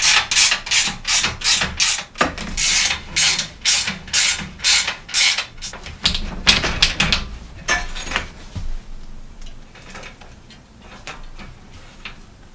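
A wrench loosens the axle nuts on an old bicycle with a Shimano three-speed hub, a rapid run of loud, close ratcheting clicks that eases into quieter rubbing and scraping.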